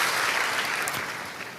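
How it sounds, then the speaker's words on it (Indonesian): Church congregation applauding during a service, a brief burst of many hands clapping that starts full and gradually fades out. "Berikan tepuk tangan kita untuk Tuhan kita yang luar biasa"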